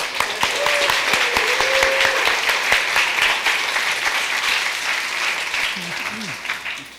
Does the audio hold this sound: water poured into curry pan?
no